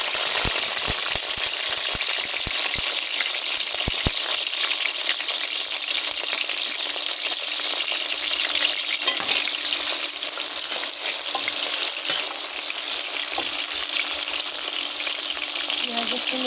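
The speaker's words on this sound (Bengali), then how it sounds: "পেঁয়াজ একটু নেড়ে দেবো, লাল লাল করে ভেজে নেব" Onions frying in hot soybean oil in a wok, a loud, steady sizzle with crackling spatter that runs throughout, with a few low thumps of stirring near the start.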